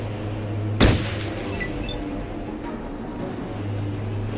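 A single sharp gunshot bursts out loud and close over a steady low hum of game ambience in the turn-based Fallout Tactics, Kansas City mission, followed by faint distant cracks.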